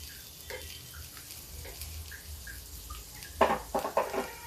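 Water is poured into ground coriander-chili salt in a kitchen, with a few faint trickles followed by a short burst of louder splashing and pouring near the end.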